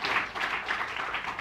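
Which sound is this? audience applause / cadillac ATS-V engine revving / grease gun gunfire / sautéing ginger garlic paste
audience applause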